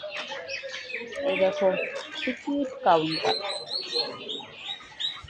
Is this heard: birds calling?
yes